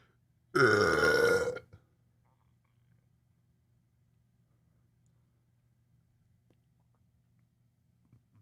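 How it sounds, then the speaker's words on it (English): A single loud, rasping burp right after a drink of water, lasting about a second, then near-silence with a faint low hum. "That was clean to get the burp like right after, to get that punch, the exclamation point."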